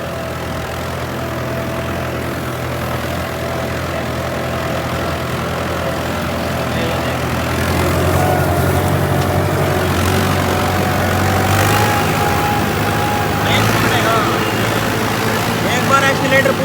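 Tractor diesel engine with an inline injection pump, upgraded from CRDI, idling at reduced RPM: a steady low rumble with a faint higher whine, continuous and close, with people talking over it.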